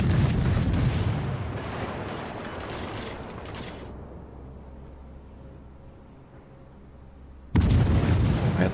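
Heavy naval guns boom in a World of Warships battle, a loud blast rolling into a long fading rumble, then a second sharp report near the end.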